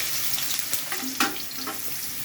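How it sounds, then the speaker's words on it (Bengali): Cauliflower stems fry in hot oil with nigella seeds, a steady close hiss with small crackles and a few stirring clicks and spatters. "একটু ভাজা ভাজা করে নেব কপির ডাঁটিগুলোকে"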